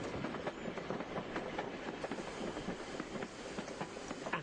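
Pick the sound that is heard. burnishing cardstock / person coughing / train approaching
train approaching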